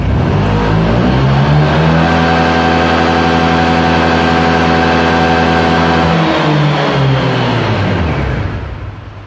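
A motorcycle engine with a remapped ECU is held at about 10,000 RPM, a loud, steady high-pitched roar close by that drops away at the end as the throttle closes.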